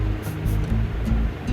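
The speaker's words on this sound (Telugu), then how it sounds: "ఇప్పుడు పప్పులో వాటర్ సపరేట్ చేసుకోవాలి" Water from pressure-cooked dal, done after five cooker whistles, pours out in a steady rushing splash that keeps going through the moment, fairly loud with a low churning tone and no talk over it.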